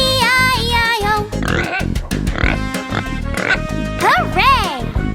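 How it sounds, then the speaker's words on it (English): Cartoon pig oinking in a children's farm rhyme: bouncy, repeated grunting oinks mixed with sung music, loud and up front, with pitched squeals toward the end. "With an oink oink here and an oink oink there"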